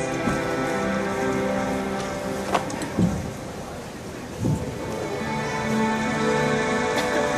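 Steady rain hisses over a surface with a constant wash of noise, broken by a few dull thumps and a faint rumble.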